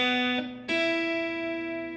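Strings strummed on a 12-string guitar, a first chord ringing briefly before a second, fuller strike at about 0.7 s that sustains with doubled, shimmering strings, played alone and close.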